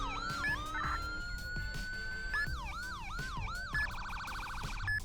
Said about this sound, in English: that's the sirens for the police side of the